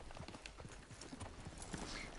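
Steady clip-clop of horse hooves walking at an even pace in Red Dead Redemption 2, with faint background ambience.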